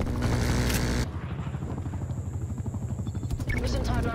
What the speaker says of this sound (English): Hostile attack helicopter inbound.